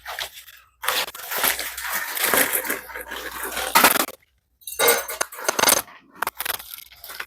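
Beef cheeks in a cryovac package are cut open and handled up close, giving loud crinkling plastic, scraping and rustling in several busy stretches separated by short silent gaps.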